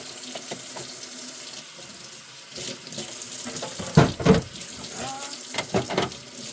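A kitchen tap runs steadily while dishes and utensils are rinsed during cooking, with a few louder clatters and splashes toward the end.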